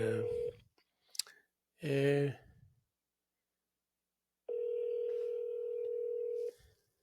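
Telephone line tones while placing a call: short beeps and clicks early on, then a steady sustained tone holding for about two seconds, with silence between.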